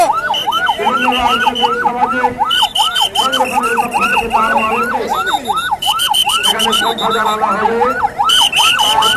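An ambulance siren wails loud and close in a continuous rising-falling yodel, with traffic and horn-like tones layered around it.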